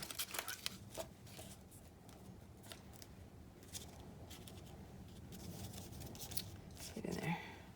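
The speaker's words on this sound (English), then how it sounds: "I'm just cutting out some." Scissors snip paper into pieces for a rooster collage on a thrifted art canvas. Short crisp cuts repeat quietly and close by, with faint rustling between them.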